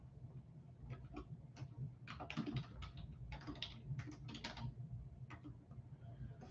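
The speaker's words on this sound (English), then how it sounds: "Hence the long typing." Computer keyboard typing in irregular bursts of rapid clicking, fairly close and quiet, with short pauses between flurries and no voices.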